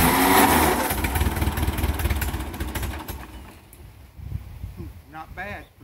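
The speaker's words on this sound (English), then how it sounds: "see if I can choke it and get it started" A Ford 660 tractor engine, unstarted for 13 to 15 years, is choked and cranked, then catches and runs with a loud rough rumble that eases off, with a voice speaking near the end.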